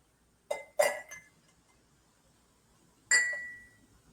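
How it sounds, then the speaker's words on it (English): A metal infuser basket is set back into a glass teapot: three quick light clinks, a pause, then one brighter ringing clink that fades, close and quiet. "And now let's add our basket back."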